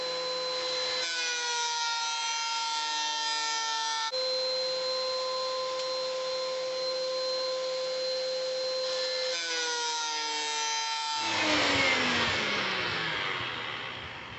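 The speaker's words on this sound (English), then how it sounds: "Now I've got to run it through the planer on both sides." A thickness planer gives a steady mechanical whine, with a loud rushing roar near the end as a hardwood board feeds through, no voices.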